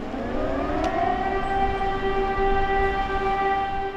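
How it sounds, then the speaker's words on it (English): An air raid siren wails across Ukraine at night during wartime, its tone rising at the start and then holding a steady, sustained howl over low background rumble. "An air raid siren warns of some threat in the sky"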